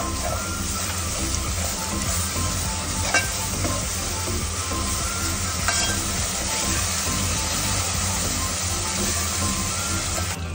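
Onions and ginger-garlic paste fry in a pan, a steady loud sizzle running the whole time with a few light scrapes of stirring near the middle.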